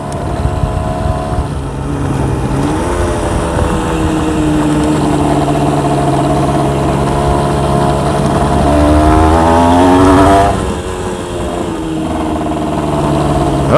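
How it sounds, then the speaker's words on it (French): A Honda CRM 125 two-stroke motorcycle engine buzzes loud and close at high revs, its pitch climbing and wavering as it pulls, then dropping sharply near the end. "ça aime à être dans les tours, au-dessus de 7000 tours, c'est là que ça prend tout son sens"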